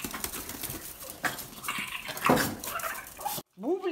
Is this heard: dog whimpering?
yes